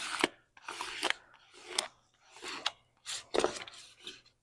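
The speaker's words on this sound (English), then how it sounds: "take your little tool, it's a white squeegee, and you're going to stick it to the wood." A white squeegee rubs against a wooden surface in a series of short, scratchy strokes, several separate passes close up with brief pauses between them.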